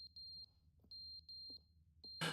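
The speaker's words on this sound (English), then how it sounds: "The fire alarm?" Electronic fire alarm in The Stanley Parable, sounding as a series of short, steady high-pitched beeps in an uneven rhythm, with faint thumps between them and a loud burst of noise at the end.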